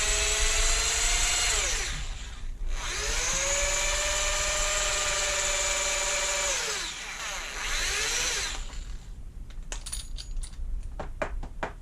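A power tool spins a polishing head inside the neck of a .300 Win. Mag. rifle cartridge case, a whining motor tone that rises and falls over two runs, followed by sharp metallic clinks and rattles.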